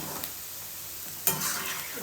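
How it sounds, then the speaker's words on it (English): Chicken crackles and sizzles as it fries in hot oil for a chicken pickle, a steady hiss with a brief clink and stirring scrape partway through, close by. "it took around 8 to 12 minutes for frying"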